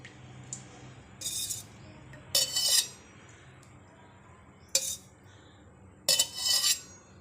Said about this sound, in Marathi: ह्या पळीने चार पळ्या टाकल्यात तेल